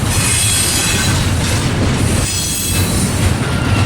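A long cut of freight train cars rolls steadily past up close at the Long Beach ports, a loud continuous rumble of wheels and rail noise with squealing hints and no voices.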